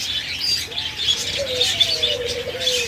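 Caged lovebirds, Java sparrows and budgerigars kept for breeding, a busy mix of high chirps and tweets with a few longer whistled calls over a steady background hum, fairly close.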